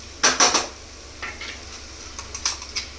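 Green chili paste goes into a pot of frying chicken pulao with a few sharp clinks and taps of a spoon against the metal rim, then a softer series of knocks, close and fairly loud.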